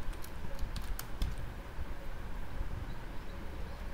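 VBA code being typed on a computer keyboard: quick, light clicks in scattered bursts, fairly close but quiet over a steady background hum.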